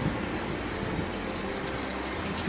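Water gushes steadily from a public drinking tap in Spain, a continuous hissing outdoor flow that stays even and close for the whole stretch, with no voices over it.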